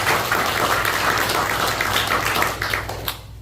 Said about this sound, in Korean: 박수를 다시 드리고 싶습니다